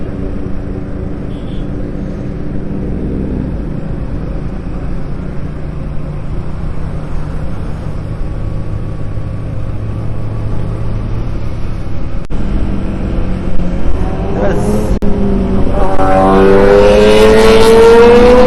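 An Aprilia RS457 motorcycle passes on a road, its engine growing louder and rising in pitch toward the end as it sweeps close by; steady wind and road rumble run underneath.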